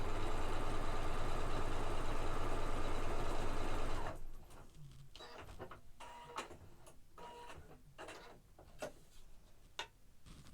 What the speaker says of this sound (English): So let me quickly stitch this.